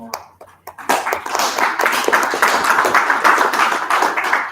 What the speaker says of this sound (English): Again, a very big round of applause for